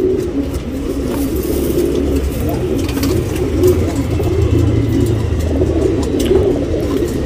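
Tournament pigeons in a loft in Bangalore coo in low, rolling, overlapping calls, close and fairly loud, with a faint passing vehicle in the background.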